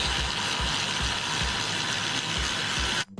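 A ratchet tightens bolts on the upper radiator supports of a 1999 Ford Mustang Cobra during a radiator install, clicking in a fast, regular rhythm at close range before stopping abruptly near the end.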